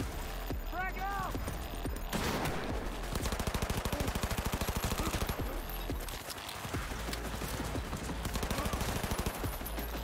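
Rapid video game gunfire from Cyberpunk, with bursts of automatic shots and dense firefight noise running almost the whole way through, loud and close in the mix, with a voice talking over parts of it.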